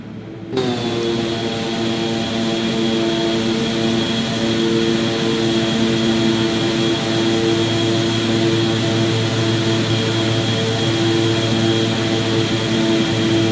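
King Air C90B twin turboprop at full takeoff power in a flight simulator, a loud steady propeller drone with strong sustained tonal whine that kicks in abruptly and holds without a break.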